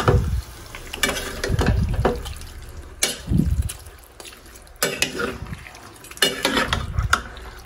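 Chicken adobo being stirred in a pot, with repeated scraping and clinking of a utensil against the metal, irregular bursts over a soft simmering background, close by and fairly loud.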